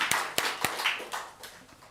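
A church congregation claps during Sunday worship, a handful of sharp, separate claps in a loose rhythm, fairly faint and moderately distant in an echoing room.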